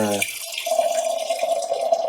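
Water pours in a steady stream, splashing into a cooking pot of dried anchovy curry, right after a short moment of voice.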